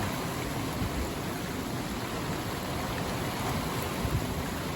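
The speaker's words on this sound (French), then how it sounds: "Il pleut fort en plus." Heavy rain pours down in a steady, dense hiss during a stormy late-February gale with northwest gusts, a continuous wash of noise without pauses or voices.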